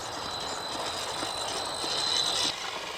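A 1/10-scale G Made Komodo 4x4 electric trail truck on a 2S LiPo battery whines steadily at about half throttle, a continuous high-pitched motor and drivetrain hum that swells slightly before easing off.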